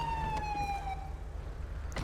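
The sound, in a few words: police car siren in GTA V LSPDFR video game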